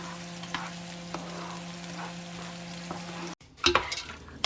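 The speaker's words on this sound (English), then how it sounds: "Same thing with the carrots. I am also frying them." Carrots fry in a pan for chicken empanada filling, a steady close sizzle with a low hum and a few stirring scrapes and clinks near the end.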